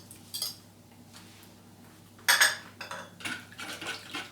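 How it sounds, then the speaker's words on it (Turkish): A utensil stirs pancake batter made with egg and grated orange zest in a bowl, producing a brief clink, a pause, then a run of scraping, tapping strokes against the bowl, close and fairly quiet. "Karıştırıyorum."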